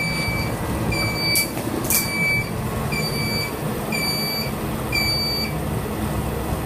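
Level sensor alarm on a perfusion heart-lung machine during priming, repeating regular electronic beeps roughly once a second over a steady room hum, with a couple of brief clatters.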